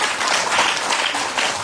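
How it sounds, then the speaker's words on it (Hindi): Audience clapping at a Hindi religious discourse session, a brief continuous burst of many hands clapping together, fairly loud and steady. "ताली अच्छे से नहीं बजी"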